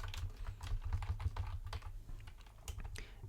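Rapid typing on a computer keyboard, a steady run of close, crisp key clicks with a few louder strokes, no voices.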